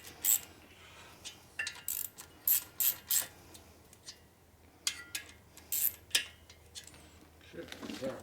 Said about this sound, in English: Hear the paint cracking?